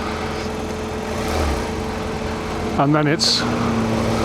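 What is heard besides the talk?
motorcycle engine while riding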